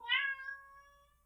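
A single clear, close cat meow, rising then drawn out and fading over about a second, heard alone.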